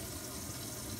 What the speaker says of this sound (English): water sounds to be flowing through uninhibited